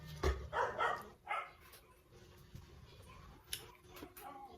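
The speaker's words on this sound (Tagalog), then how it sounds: "Ang ingay ng aso." A dog barks a few times at a distance, short sharp yaps scattered among quiet household background noise.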